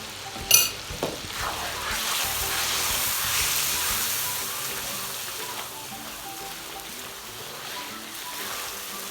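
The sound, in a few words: chicken karahi masala frying in a pan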